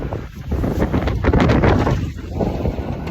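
Strong wind buffets the microphone outdoors on a cold, sunny day, a continuous loud rumbling roar with gusts swelling and easing throughout and no voices.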